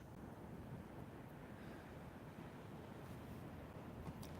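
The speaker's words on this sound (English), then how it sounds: "This is some of the wave action." Atlantic Ocean surf washes steadily over a breached dune, a dense, continuous roar of breaking waves mixed with wind buffeting the microphone, low and unbroken throughout.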